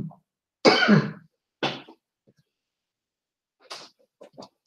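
A person coughs several times in short bursts, with a strong first cough followed by a softer one, then a pause and a few quieter coughs and throat noises at the end, heard close by without talk.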